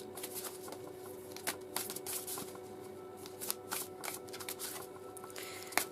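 Oracle cards being shuffled by hand, a steady run of crisp riffling flutters and soft card slaps at close range with no talking.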